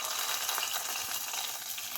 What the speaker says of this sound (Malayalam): ഇനി നമുക്കിത് ഈ രസത്തിലേക്ക് താളിച്ചൊഴിച്ച് കൊടുക്കാം